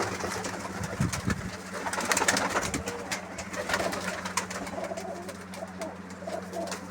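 Pigeons and their chicks coo in a loft, a steady overlapping murmur of low throaty calls that runs nonstop for several seconds, close and fairly loud, with no voices.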